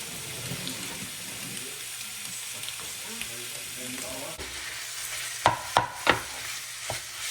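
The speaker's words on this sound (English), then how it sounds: "We'll get this meat browned up, mix it up with the good stuff." Ground meat with onions and garlic browning in a pan, a steady close sizzle with soft stirring scrapes, then a short run of loud knocks of a utensil against the pan.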